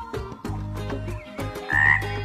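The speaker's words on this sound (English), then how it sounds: "Frogs love water and can be easily recognized by their voices." A frog croaks loudly and close, a series of deep rasping calls in uneven bursts, alone without any voices.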